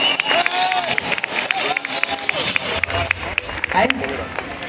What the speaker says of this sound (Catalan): Un fortíssim aplaudiment per aquestes persones que han estat fent el taller de flors